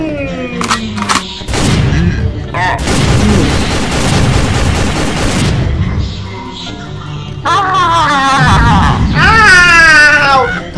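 Gunfire from a toy-battle game, several sharp bursts of shots and booms under excited talk, with shrill cries and electronic sounds in between.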